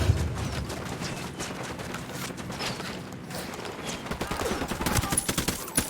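Sustained gunfire from a firefight in the video game Ghost Recon Wildlands, with dense overlapping shots and bursts that grow sharper and more rapid toward the end.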